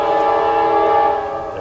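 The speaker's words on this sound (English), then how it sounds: "there's my train" A train horn sounds in one long, steady, loud blast with a rich tonal chord, held throughout without break while the train passes; no speech.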